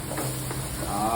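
Garlic and onion sizzle in a hot pan, a soft continuous frying hiss with faint stirring scrapes, close and steady for a brief moment.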